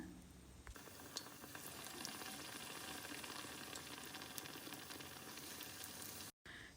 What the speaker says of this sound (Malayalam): ചക്കയുടെ പീസ് എണ്ണയിലേക്ക് ഒന്ന് ഇട്ട് കൊടുക്കുകയാണ് ചെയ്യണത് നമ്മൾ എന്നിട്ട് പഴംപൊരി പൊരിച്ചെടുക്കണത് പോലെ തന്നെ ഇത് തിരിച്ചു മറിച്ചിട്ടിട്ട്